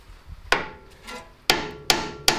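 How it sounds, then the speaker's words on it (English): Four sharp metallic hammer strikes on a car's front ball joint during a Honda CRX repair, loud and close, irregularly spaced with short ringing decays between blows. "we should be able just to hit this again with a hammer"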